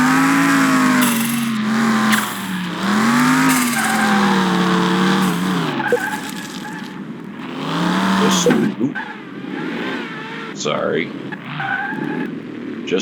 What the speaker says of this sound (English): Just be careful because driving in this game is very touchy